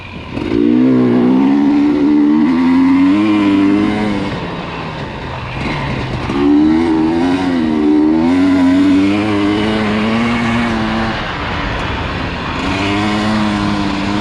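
A 2020 KTM 250XC TPI two-stroke dirt bike ridden through a wash, its engine loud and close throughout, rising and falling in pitch with repeated revving and throttle changes, with no talking.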